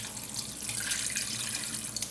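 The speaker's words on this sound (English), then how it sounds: "I'm going to add some water to this." Cold tap water runs steadily into a soup pot for broccoli cheddar soup, a continuous close hiss and splash filling the whole moment with no talk.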